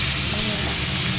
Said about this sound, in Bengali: কড়াই তেল দিয়ে দিয়েছি, একটু পেঁয়াজের সঙ্গে উচ্ছে দিয়ে দিয়েছি